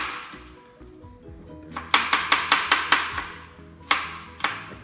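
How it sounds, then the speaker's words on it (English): A knife chops peppers on a cutting board in a home kitchen, starting with a rapid run of about seven sharp, evenly spaced thuds and then a few slower separate chops. Low background noise runs throughout. "So next I'm gonna cut the peppers."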